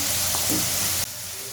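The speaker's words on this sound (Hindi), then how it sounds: "जी तो ये अभी थोड़ी 1-2 मिनट और पकाएंगे, इसको फ्राई करेंगे" Pizza fries sizzle in hot oil with a steady, dense frying hiss that drops to a quieter simmer partway through the short stretch, with no talking.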